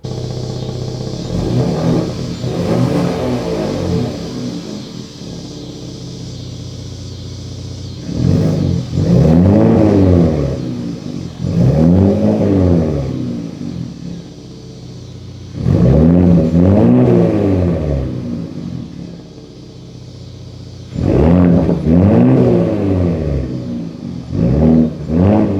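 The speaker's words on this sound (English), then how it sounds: "Now you can go through those exhaust settings and change the sound of that exhaust." A 2021 Ford Raptor engine revs repeatedly with its active exhaust, several loud rising-and-falling bursts separated by steady idle, close and alone.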